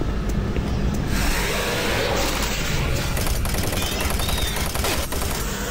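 Chain gun in Doom 3 Resurrection of Evil rattling out loud sustained bursts, dense rapid fire with mechanical clatter filling the whole stretch, no talking.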